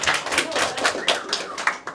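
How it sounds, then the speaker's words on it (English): A small group of mock trial students and classmates clap after their first trial, a brief burst of fairly close, busy clapping with scattered sharp hand slaps and no clear talk. "Let's give them a round of applause."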